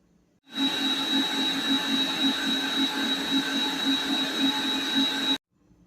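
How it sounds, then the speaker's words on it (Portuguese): An electric stand mixer beats chocolate spice cake batter at medium speed. It gives a loud, even motor whir with a regular rhythmic thump and starts and stops abruptly. "você pode aumentar a velocidade da batedeira para a velocidade média"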